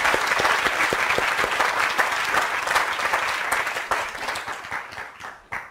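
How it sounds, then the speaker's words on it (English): A lecture audience applauds steadily for about four seconds, a dense, close wash of many hands clapping together that then thins and fades out near the end. "Let's give Dr. McNamara another round of applause"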